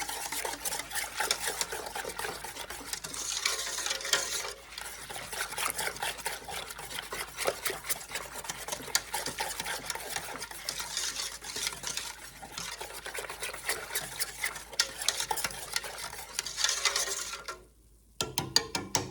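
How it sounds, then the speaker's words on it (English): Apple pie filling whisked in a pot: rapid, continuous rattling strokes of a whisk against the metal, close and fairly quiet, with a brief pause early on and a sudden stop near the end. "I'm gonna get this all whisked together."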